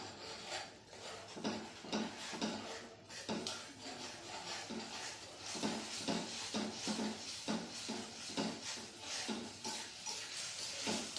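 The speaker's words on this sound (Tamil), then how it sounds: "இதை லேசாக கிளறி விடுங்க" A herbal paste being stirred as it heats in a pan on the stove, a utensil scraping and rubbing against the pan in a steady repeated rhythm of strokes, close and moderately quiet.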